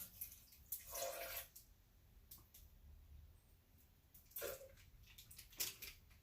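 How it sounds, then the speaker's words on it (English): Juice is poured into a jerk chicken marinade in short splashy bursts, quiet and close, with faint drips and handling sounds between pours. "I'm going to add some more juice in there."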